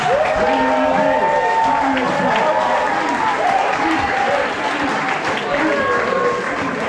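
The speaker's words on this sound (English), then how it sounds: "can you give a massive round of applause to these two here?" An audience at a school dance competition, Collingwood Comes Dancing, applauds and cheers steadily for two performers, a dense continuous crowd noise with whistles and shouts mixed in.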